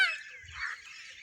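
A peacock calls alone, a loud, nasal, drawn-out honking cry outdoors with a faint low rumble beneath it.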